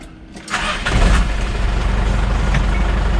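A 6x6 Perentie ambulance's engine cranks and catches, then settles into a loud, steady rumbling idle close by.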